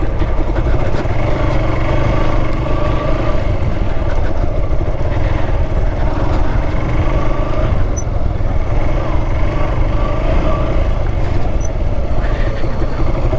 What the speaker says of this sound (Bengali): আগের 3টা বাইক